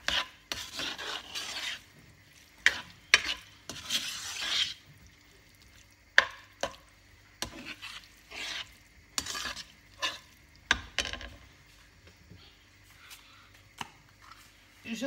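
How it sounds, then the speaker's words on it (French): Scampi with salt stirred in a pan, heard as close scraping, rasping strokes with light sizzling between them, in irregular bursts that come sharper and more spaced out as it goes on. "Je mélange le tout."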